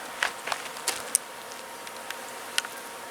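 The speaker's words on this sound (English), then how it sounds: "They're like bumblebees." Large black bumblebees buzz faintly in brief passes, with a few short, sharp flutters standing out against a quiet outdoor background.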